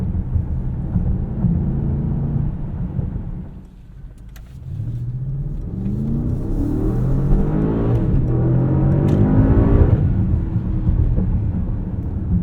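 A 2024 Mercedes-AMG GLE 63 S Coupe launches hard, its engine note rising loudly from inside the cabin, dipping briefly at a gear change, then climbing again as it pulls through the next gear.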